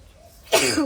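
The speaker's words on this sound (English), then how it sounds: "Sorry, I just sneezed." A single sharp sneeze bursts out after a moment of near silence, close and loud.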